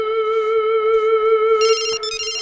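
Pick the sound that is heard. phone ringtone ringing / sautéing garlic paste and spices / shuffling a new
phone ringtone ringing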